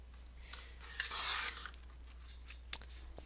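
Scissors cutting through striped paper scraps, a single drawn-out snip and rustle near the middle with a few lighter clicks and paper rubs around it, quiet and close, no talk.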